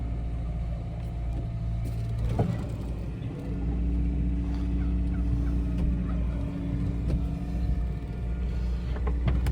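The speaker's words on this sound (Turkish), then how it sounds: "Hala üstünde hindi var." A turkey gobbles in a rural yard, short rattling calls standing out over a steady low engine rumble from a nearby car.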